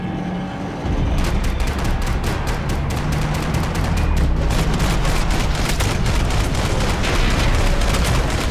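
Rapid gunfire from the video game Max Payne 3 erupts after a brief quiet start, a loud, dense fusillade of shots and booms that continues without pause.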